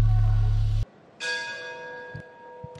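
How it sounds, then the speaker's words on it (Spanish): A boxing ring bell ends a round in a professional bout: a loud metallic clang, a short gap, then a second ringing strike that decays slowly under arena noise. "Buscando un buen cierre a Ayrton Jiménez cuando suena la campana."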